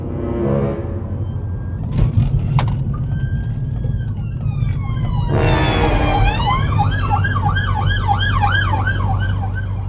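A marked police car's siren wails past loudly and near, its rising and falling tones sweeping over the steady drone of a petrol car's engine running on a 40% diesel mix.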